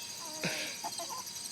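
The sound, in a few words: chicken clucking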